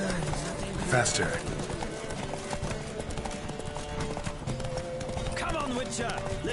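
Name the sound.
horse galloping in a race, from the video game The Witcher 3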